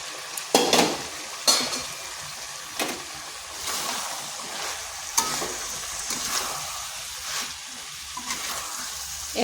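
Bottle gourd tossed with chicken pieces in a pan, a spoon scraping and stirring in several sharp strokes over a steady low sizzle, close and fairly loud, with no talking.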